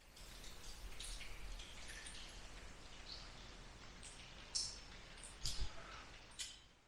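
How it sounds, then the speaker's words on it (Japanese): Scattered water drops fall at irregular intervals inside a 110-year-old abandoned railway tunnel, a few landing louder and nearer over a steady low rush. "すごい水が落ちる音がしますね"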